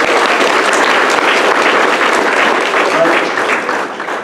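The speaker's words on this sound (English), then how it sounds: "Round of applause for our new people to debate." An audience at a debate workshop claps for newcomers, a dense, loud burst of applause that holds steady for several seconds before easing slightly at the end.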